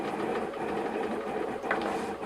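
A Kossel delta 3D printer runs in the background, giving a steady mechanical whirring and buzzing hum with faint motor whines, continuous and moderately quiet, no speech.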